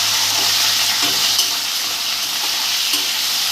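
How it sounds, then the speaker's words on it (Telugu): Prawns sizzle steadily in hot oil in a pan, a continuous bright frying hiss with a few soft stirring clinks, and no one speaks. "రొయ్యలు దాంట్లో వేసేస్తున్నాను."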